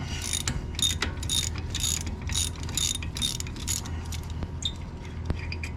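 Ratchet breaking loose Loctite-secured front brake caliper bolts on a 2017 BMW X1, a run of close, evenly spaced clicking bursts over a low background rumble, fading to a few isolated clicks near the end.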